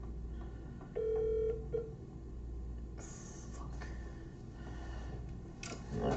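A malfunctioning phone gives off a steady tone for about a second, followed by a few short dialing beeps and clicks over a constant low rumble.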